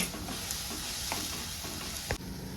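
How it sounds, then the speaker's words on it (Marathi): Tomato masala paste fries in oil while being stirred, producing a steady soft sizzle with repeated scraping strokes and one sharper knock near the end, and no one speaks. "तोपर्यंत आपल्याला तेलामध्ये ह्याला हलवत राहायचं तेल सुटीपर्यंत आपल्याला ह्याला मिक्स करायचं आहे"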